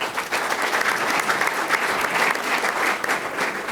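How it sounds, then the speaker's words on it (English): A dense, steady round of applause fills the room from an audience at a panel on Chicago city finances, continuous and fairly loud throughout. "round of applause for"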